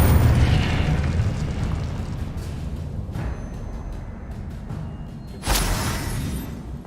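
An Incendio fire spell cast in Hogwarts Legacy, heard as a sudden loud whooshing burst that flares up and then fades into a rumbling roar, following a stretch of softer magical crackle.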